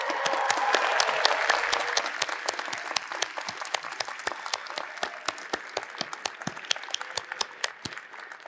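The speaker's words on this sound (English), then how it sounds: "please stand and give a cheer to all your families and friends here with you today" Applause from a graduation audience cheering for families and friends at a commencement ceremony for the classes of 2020 and 2021: dense, sustained clapping from a large crowd that stays loud throughout.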